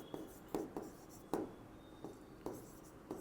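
A teacher writes on a board during a Class 11 chemistry lesson on the mole concept: quiet, scattered taps and short scratchy strokes at an irregular pace, fairly faint in a room.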